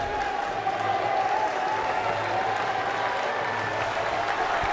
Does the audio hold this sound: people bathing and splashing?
no